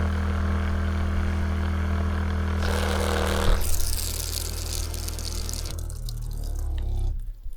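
A water pump runs steadily at a camp on a Cape trip, giving a continuous motor hum mixed with rushing water. Its tone shifts partway through as it pumps up, and no one talks.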